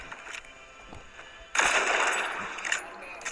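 Gunfire in a shooter video game breaks out as a sudden loud burst of rapid shots that carries on for a couple of seconds, with players' voices around it.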